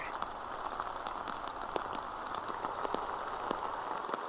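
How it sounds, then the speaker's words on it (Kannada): Heavy rain pours down steadily in Karnataka, a dense, unbroken patter of drops drumming on surfaces close by, loud and continuous with no voices. "ಕಳೆದ 3-4 ದಿನಗಳಿಂದ ಎಡೆಬಿಡದೆ ಸುರಿಯುವ ಮಳೆ"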